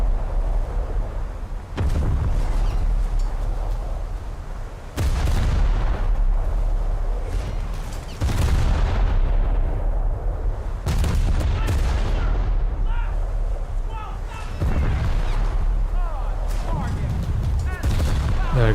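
Battleship secondary guns firing in a naval combat game aboard the USS Roanoke: heavy booming salvos every few seconds, each with a long rumbling tail, near and loud, with a voice speaking between blasts.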